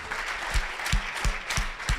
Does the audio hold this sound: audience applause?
yes